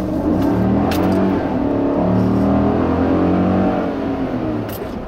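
A 6.2-liter V8 engine in a 2016 GMC Sierra 1500 Denali pickup revs and accelerates close by, a loud throaty rumble with rising harmonic tones that eases off at the end.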